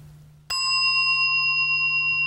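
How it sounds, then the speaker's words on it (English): A mindfulness bell is struck once, a clear metallic strike followed by a long, steady ringing tone that sustains evenly without fading much, heard alone against a low background hum. "Now the third sound of the bell."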